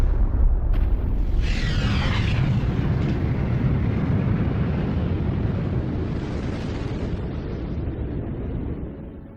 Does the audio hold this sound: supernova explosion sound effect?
yes